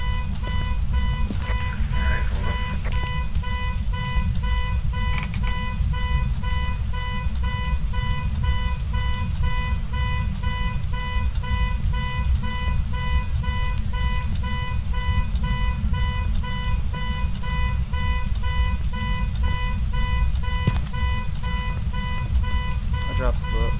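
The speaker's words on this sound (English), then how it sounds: "The issue is we can't turn the alarms off until we can find the right key." Alarms ringing nonstop in a video game, a loud steady electronic tone over a constant low drone, with voices talking over it.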